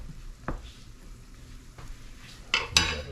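Onions frying in a pan for spicy fish nuggets: a quiet, steady sizzle broken by a few sharp scrapes and clatters of a utensil stirring, the loudest near the end.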